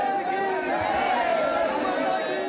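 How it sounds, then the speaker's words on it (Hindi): Dense crowd chatter fills the Radhavallabh temple in Vrindavan ahead of Basant Panchami, many voices overlapping into a steady, loud, close murmur with no break, some individual voices rising briefly above the mass. "राधा वल्लभ मंदिर में उमड़ रही भीड़।"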